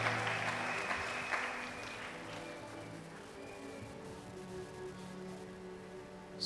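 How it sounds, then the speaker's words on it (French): A church congregation claps and cheers in acclamation of Jesus Christ, a steady wash of applause sustained throughout with organ-like tones beneath, fairly faint and distant. "Acclamez fortement Jésus-Christ."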